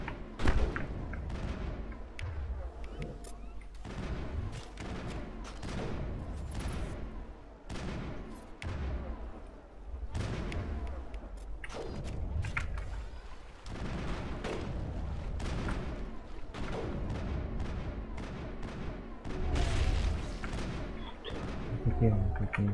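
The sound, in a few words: gunfire crossfire in video game Mass Effect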